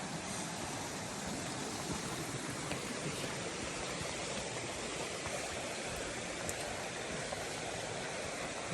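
Creek water flowing in Muir Woods, a soft, steady broadband rush with no breaks, fairly faint and even as if heard from a short distance.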